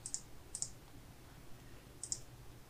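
Quiet computer mouse clicks, three sharp double clicks spaced over a couple of seconds, close and isolated over faint room noise.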